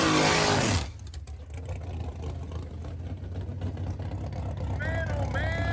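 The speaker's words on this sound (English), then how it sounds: "Man, oh man, you just gotta love a big block nitrous T-body, y'all." A big block nitrous T-body drag car engine roars loudly at first, then drops to a deep, steady idle rumble at a drag strip, with a voice speaking over it near the end.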